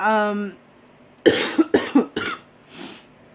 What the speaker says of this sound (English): I have a very deep-seated cough.